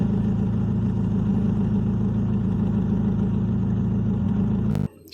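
A car engine idles smoothly after its throttle body and idle valve were cleaned, a steady close-up rumble that runs evenly for about five seconds before cutting off abruptly.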